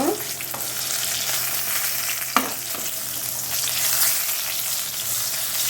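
Eggplant slices sizzle steadily in a pan of oil over low heat, a continuous frying hiss with occasional stirring clatters from a spatula, close and alone without talk.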